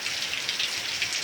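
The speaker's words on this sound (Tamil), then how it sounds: "மழை பெய்யுது." Heavy rain pours down in a dense, steady hiss close by, with no voices over it.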